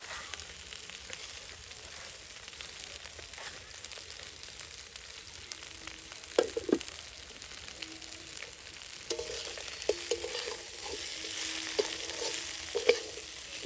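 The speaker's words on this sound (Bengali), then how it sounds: "এখন আমি দিয়ে দিচ্ছি ভেজে রাখা চালগুলো।" Pre-fried rice grains tipped into a pan and stirred, a quiet continuous sizzle broken by soft scraping strokes and a few louder stirs in the middle and near the end, with no talking.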